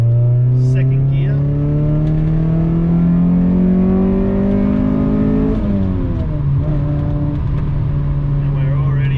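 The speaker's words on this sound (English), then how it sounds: "Second gear, pull wide open throttle." A 1991 Honda Prelude pulls hard at wide open throttle in second gear, its engine note climbing steadily, dipping briefly at a shift, then droning on loud and close throughout.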